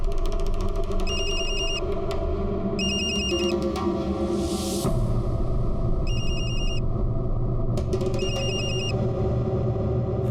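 A telephone rings in repeated double bursts, four rings spaced evenly over a low steady rumble, with no talking.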